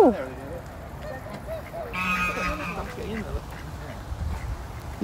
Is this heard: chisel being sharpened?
no